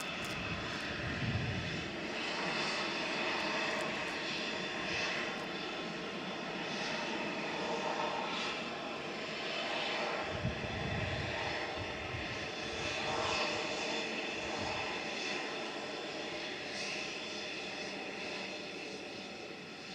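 A Boeing 787-9 Dreamliner departs Manchester Airport in the rain, its jet engines producing a sustained, moderately distant roar with steady whine over low rumbling swells.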